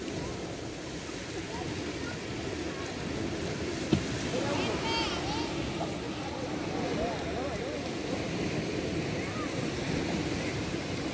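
Sea waves rolling onto a beach at sunset, a soft continuous surf with a brief knock near four seconds and faint voices talking in the background.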